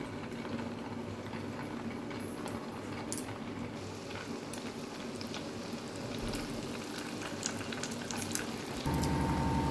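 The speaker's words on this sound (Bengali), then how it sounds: "এই কোপ্তাগুলো ভেজে নেব।" Chana koftas frying in hot oil in a kadai give a steady, quiet sizzle and bubbling that runs throughout, close by, with no talk.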